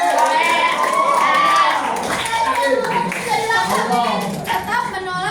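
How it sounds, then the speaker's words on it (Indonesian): Schoolchildren in a grade 9 Islamic studies class clap their hands in a lively burst, with children's voices and chatter mixed in and the clapping thinning toward the end. "Bagus, tepuk tangan."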